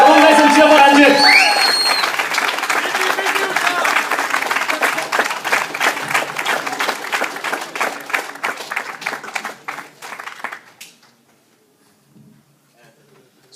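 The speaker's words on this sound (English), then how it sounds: "Come on guys and cheer for Ranjit." A theatre audience at a live comedy show cheers, whoops and applauds loudly and continuously, the clapping thinning out and fading to near silence toward the end.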